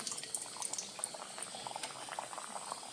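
Steady, dense sizzling and bubbling of maida (refined flour) dough pieces frying in hot oil, close up and unbroken, with no voices.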